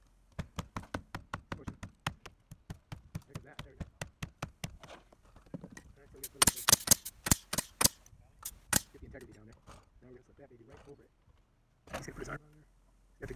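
Nail gun firing repeatedly while installing a flat roof, a run of sharp close pops in quick irregular bursts, with a person talking between shots.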